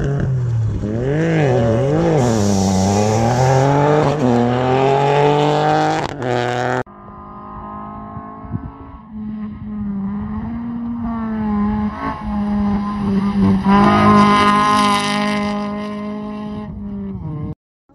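A rally car in Stage 5 of the Caminos del Inca rally, on the Cusco–Puno roads, roars loudly with a rising, shifting engine note, then settles into a steady drone as it races past. No voices are heard over it.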